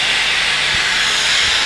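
Steam vents in a loud, steady hiss from a Darjeeling toy train steam locomotive, a continuous close rush of sound with faint low thumps beneath.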